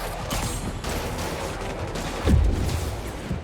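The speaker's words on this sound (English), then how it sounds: "It was just a gunshot." A single gunshot fires in the Spider-Man Remastered video game, a sudden low boom partway through, set against a steady, busy bed of game noise and ambience.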